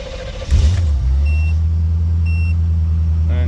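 A 1984 Corvette Z51 V8 with FiTech fuel injection cranks and catches, then settles into a steady, loud low rumble that carries on without pause.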